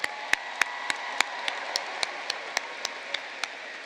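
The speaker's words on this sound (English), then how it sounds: "Let's give these students another round of applause." Applause at a high school graduation ceremony for the graduating students, a steady wash of many hands with a few sharper individual claps standing out, moderately distant and without talk.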